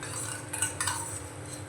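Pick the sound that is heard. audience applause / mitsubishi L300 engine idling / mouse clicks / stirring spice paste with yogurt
stirring spice paste with yogurt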